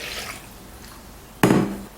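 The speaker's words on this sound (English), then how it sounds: "First, add some water into a mixing bowl." Water poured into a mixing bowl while preparing whole wheat bread dough, a soft trickle and then a sudden louder splash of water hitting the bowl near the end, close and with no talking.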